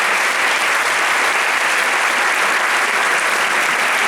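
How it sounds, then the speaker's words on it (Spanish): Loud, sustained applause from an audience at an industry award ceremony as a prize winner is announced, a dense continuous clatter of clapping that fills the whole stretch without pause. "Fuerte aplauso."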